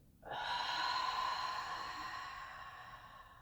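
A long, deep inhalation during a breathing exercise starts abruptly and holds steady for about three seconds, close and breathy, fading slightly toward the end with no speech.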